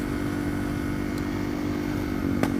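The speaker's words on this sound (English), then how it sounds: "It's doing a lot of popping and crackling." A motorcycle engine runs at a steady, close, droning pitch, with a couple of faint sharp clicks near the end and no speech.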